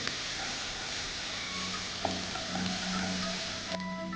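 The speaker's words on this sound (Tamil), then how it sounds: "நீங்கள் கீறி வச்சுருக்கிற பச்சை மிளகா சேர்த்து இந்த வெங்காயத்தோடு சேர்த்து வதக்கணும்" Sliced onions and slit green chillies sauté in a pan for mutton gosht, giving a soft, continuous frying hiss with faint scraping from stirring, fairly quiet throughout.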